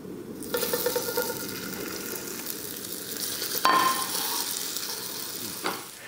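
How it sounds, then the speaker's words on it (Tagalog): Burger patties frying in a pan give off a steady, close sizzle with soft crackle throughout, plus a brief scrape or clink near the middle and another near the end. "itutuloy ko lang yung pagprito hanggang sa maluto na lahat ng mga burger patties na meron tayo"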